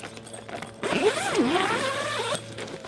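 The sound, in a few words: zipping open polytunnel greenhouse door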